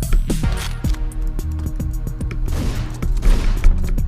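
Gunfire in the top-down action game Hotline Miami, a rapid string of sharp shots over a steady, loud music bed with no talk.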